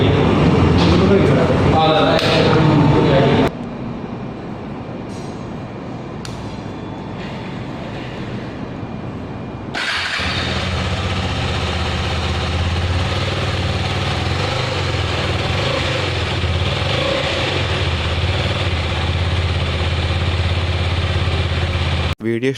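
A KTM Adventure 250 motorcycle engine starts after a quieter stretch and settles into a steady, close exhaust idle for the remainder, with a voice talking near the start.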